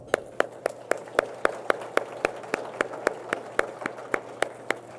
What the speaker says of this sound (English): So a big round of applause from our board